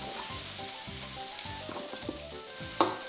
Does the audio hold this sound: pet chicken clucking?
no